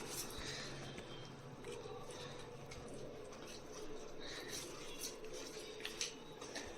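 A spoon works through biscuit cake batter, breaking up lumps with soft, faint clinks and scrapes against a bowl that come in irregular strokes, close but quiet.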